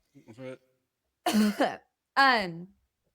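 Three bursts of coughing and throat clearing, close and fairly loud, separated by short pauses.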